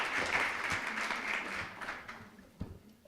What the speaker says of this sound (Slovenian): Dajmo še en aplavz